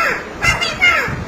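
A myna bird speaks in a harsh, scratchy voice, giving a couple of short close calls in quick succession that mimic human speech.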